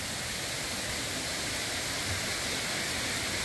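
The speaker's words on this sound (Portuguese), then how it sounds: "aqui é a Cachoeira Três Quedas" Steady, dense roar of the Cachoeira Três Quedas waterfall in the Serra das Andorinhas, a constant broadband rush of falling water heard alone with no voices and no change in level.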